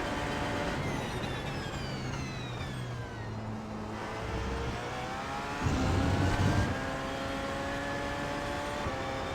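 The Porsche 919 race car engine in iRacing at Road America howls through rising and falling gear sweeps, a sustained high whine that dips, surges louder midway, then climbs again, steady and close.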